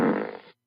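A short, loud fart sound effect, a single buzzy blat lasting about half a second before cutting off cleanly into silence.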